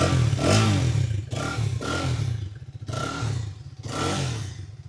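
A Hero Xtreme 250R motorcycle engine revs in short bursts, with a metallic rattling clatter from the loose number plate riding over each rev, close to the microphone.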